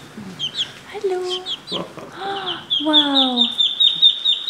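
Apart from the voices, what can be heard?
chicken clucking while being held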